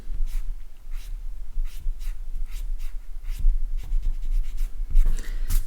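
An eraser rubs across paper to lift out highlights in a light-and-shadow shading drawing, with close, repeated brisk scrubbing strokes in an even rhythm and no talking.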